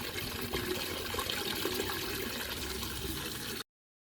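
A keg washer jets warm water inside a keg, giving a steady rushing, sloshing spray of water that runs continuously and then cuts off abruptly.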